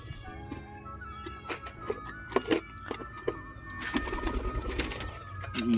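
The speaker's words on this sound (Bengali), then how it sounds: "দেখতেই পাচ্ছ খাচ্ছে পায়রাগুলো।" Pigeons coo close by in a soft, repeated, throaty rhythm, several calls overlapping, while light rustling, movement and distant traffic noise sit in the background.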